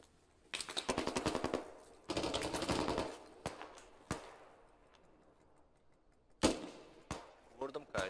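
Machine-gun fire in the military shooter Squad, with sharp rapid bursts, several long strings of shots and then isolated single cracks, loud and close against quiet gaps.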